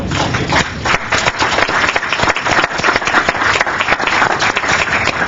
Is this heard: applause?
yes